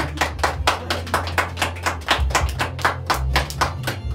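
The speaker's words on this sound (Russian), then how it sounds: "Спасибо, ваши аплодисменты." Audience members at a family celebration for a mother clap in a quick, even rhythm, with sharp, close hand claps at a steady beat over a low musical hum.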